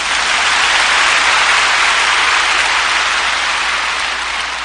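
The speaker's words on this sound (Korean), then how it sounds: "한번 힘차게 박수합시다." A church congregation claps loudly and steadily during a Korean sermon, producing a dense, even roar of applause that holds at full strength throughout.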